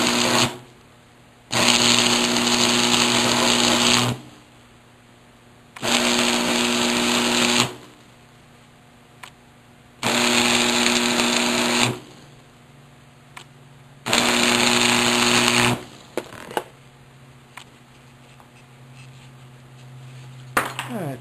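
Stick welding on a metal corner crackles and hisses in four steady runs of a few seconds each, separated by short pauses, loud and close.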